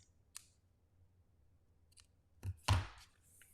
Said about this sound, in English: And then I'll just snip these.